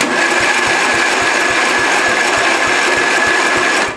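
A Murray lawn tractor engine, choke just released, runs loud and close with a rapid, steady pulsing beat and a rough, buzzing edge, cutting off near the end.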